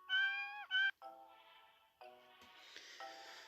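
Video game cats meow several times in a row, clear high-pitched mews with short pauses, the first two loud and close, the later ones softer and trailing off, with no talking.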